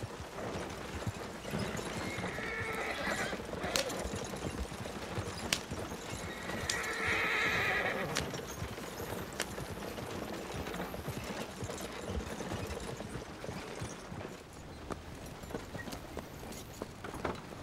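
Horse hooves clip-clop steadily as a horse-drawn wagon pulls up in Red Dead Online, with a single clear neigh partway through over rolling wheel noise.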